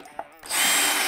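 A power drill drives a screw into a table top while fitting extension table slides, with a brief start, then a steady, close, high whirring run.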